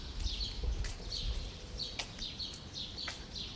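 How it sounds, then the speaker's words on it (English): Birds chirp in short repeated bursts outdoors in spring in Toronto, fairly faint over a low background rumble. "Love hearing the bird sounds."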